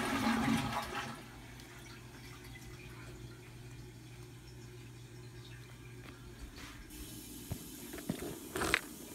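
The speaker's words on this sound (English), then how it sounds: "I forgot to flush the toilet." A household toilet flushes at the start, a loud rushing burst that settles into a steady tank-refilling hiss and trickle, ending with a few faint clicks and splashes near the end.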